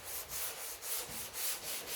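Block sanding high-build DTS primer with 120-grit sandpaper: rhythmic back-and-forth rasping strokes, about four full cycles in two seconds, close and steady with no talk.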